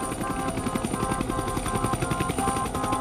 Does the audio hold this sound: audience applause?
no